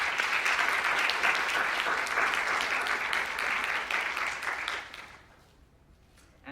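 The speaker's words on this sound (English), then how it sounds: "Give them a round of applause." At the close of a health policy research summit, an audience applauds volunteers, a full, sustained round of clapping that fades out over its last second or two into near silence.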